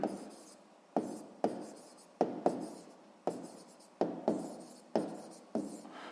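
Pen or pencil strokes on paper while working a sixth-grade maths exercise, a series of about ten sharp, close scratches each trailing off, repeating at an uneven rhythm with no voices.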